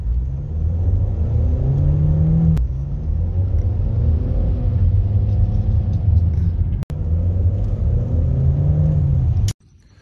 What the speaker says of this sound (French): Petite accélération.